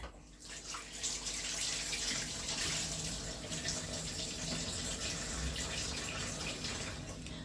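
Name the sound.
running tap water washing oxtail meat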